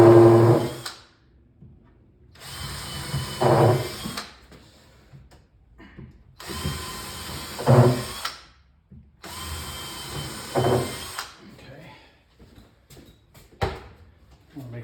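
A power drill countersinks screw holes in a wooden Pac-Man arcade cabinet panel, whirring in four close, loud bursts of about a second each separated by pauses, with faint handling clicks between them.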